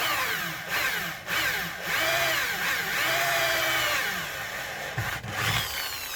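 Power drill boring with a resharpened drill bit during restoration work on a Mk V Cortina Carbodies car, a loud, steady grinding whine with bit chatter, briefly easing around one and five seconds before resuming.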